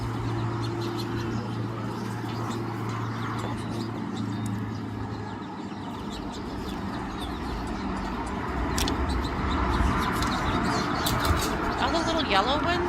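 Small birds, including yellow finches, chirp and tweet in quick scattered bursts at a feeder over steady outdoor background noise, with a low coo early on and traffic hum throughout.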